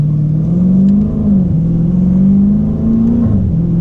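Dodge Challenger or Charger automatic engine revving steadily while downshifting for a 40 mph roll, a loud, continuous close-up drone that rises and dips slightly with each gear change, with no talking.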